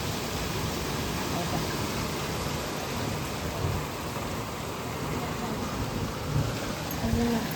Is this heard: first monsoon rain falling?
yes